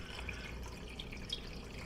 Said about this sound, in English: here's the water. There's 4 cups, and I got another 2.